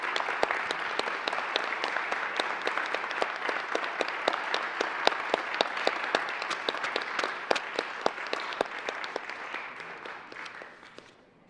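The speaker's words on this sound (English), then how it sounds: "Let's give Lance a round of applause for his commitment and service." Steady applause from a legislative chamber in the Colorado Senate honoring a departing staff member named Lance, dense continuous clapping from many people that holds for about ten seconds and then fades out.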